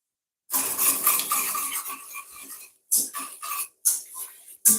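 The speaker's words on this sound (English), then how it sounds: "So I'm going to get the whisk." A whisk beats Jamaican ginger cake batter in a bowl, starting with a sustained run of rapid scraping clatter, then breaking into several shorter bursts with brief pauses, close and fairly loud, no voices.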